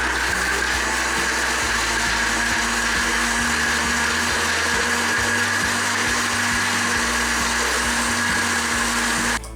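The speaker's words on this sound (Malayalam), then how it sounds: "ഒരു മിക്സിയുടെ ജാറിലേക്ക് ഇട്ടിട്ട് ഈ വെളുത്തുള്ളി ഇട്ട് കൊടുക്കാം, പാലും ഒഴിച്ചു കൊടുക്കാം. ഇതൊന്ന് അടിച്ചെടുക്കണം." A mixer grinder jar blends garlic and milk for garlic mayonnaise, a loud steady motor whir with a constant hum that runs throughout and cuts off at the very end.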